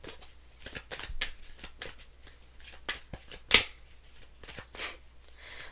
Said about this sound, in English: Okay, I'm going to shuffle again.